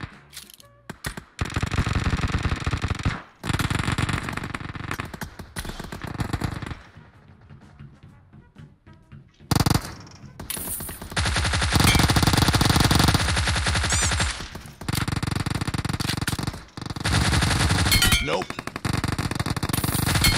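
Bursts of automatic gunfire in a shooting video game, long loud rapid strings broken by short pauses and one quieter stretch, with brief single shots at the start and faint voices in the background.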